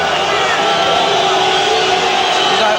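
A boxing arena crowd roars steadily as a fighter makes his walk from the dressing room to the ring, a loud, dense wall of cheering and shouting that holds without a break.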